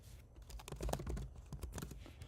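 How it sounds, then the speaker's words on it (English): Quick, irregular clicks of fingers typing on a computer keyboard, close and fairly quiet, with no talking. "I'm just typing while I'm chatting."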